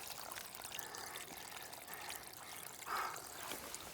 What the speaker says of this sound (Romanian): Uite, aici este izvorul. Din păcate e cam acoperit. Uitați. Uitați cum curge apa.